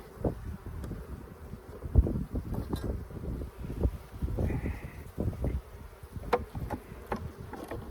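Honeybees buzzing around an open hive during an inspection at a bee farm, a steady close swarm drone with wind buffeting the microphone and occasional thumps of frames being handled.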